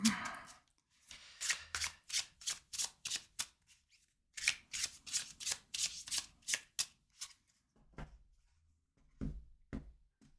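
Slippery tarot cards are shuffled close by in quick repeated riffling bursts, two long runs of rapid flicks separated by a short pause, then slower scattered card taps and handling.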